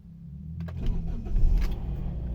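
A 2018 Toyota Altis with a newly replaced throttle body cranks and catches, its engine rising to a steady low idle rumble that fills the short stretch, close and fairly loud.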